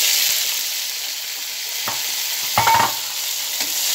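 Cut potatoes drop into a pan of browned garlic-ginger paste over low heat, giving a steady close sizzle and hiss broken by a few stirring scrapes and clinks.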